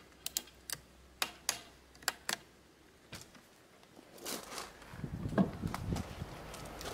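A Shimano RSX bicycle shifter ratchet clicks close up, giving a run of sharp, separate ticks for a few seconds, followed by softer rustling handling noise.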